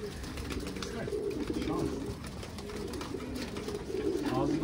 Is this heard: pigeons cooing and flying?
yes